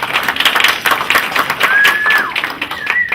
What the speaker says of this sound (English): Just a round of applause, Ramesh